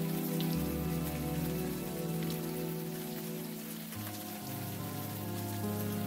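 Steady, close rain pours down in the point-and-click game Unavowed, a continuous hiss of drops on surfaces that runs under soft sustained musical tones, with no talking.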